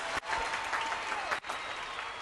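Studio audience on a Black Sea music TV show applauding: a thick, steady roar of clapping, loud and continuous, briefly dipping twice.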